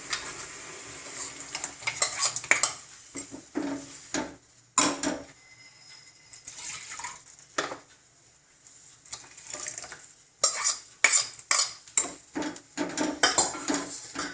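A ground paste of horse gram and pepper is added to a pan with tomato, turmeric and salt and stirred in, giving intermittent metallic scrapes and utensil clinks against the pan, close and fairly loud, with quiet pauses between strokes.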